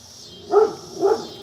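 A dog gives two short barks about half a second apart, close and moderately loud against a quiet background.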